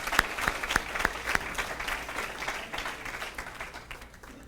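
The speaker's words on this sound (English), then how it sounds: "Let's have a round of applause for everybody who's been a part of that." An audience at a high school Hall of Fame ceremony breaks into a round of applause, with a few sharp individual claps standing out at first before blending into steady, moderately loud clapping that gradually thins toward the end.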